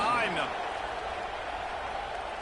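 Stadium crowd in a football video game, a steady broad roar of cheering filling the background under a commentator's voice.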